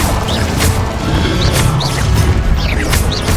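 Incendio fire spell cast in the Hogwarts Legacy video game, a run of crashing, whooshing bursts repeating about every second, loud and close over a rumbling roar, with no talking.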